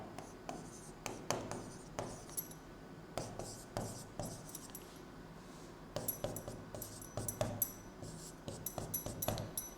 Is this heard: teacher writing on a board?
yes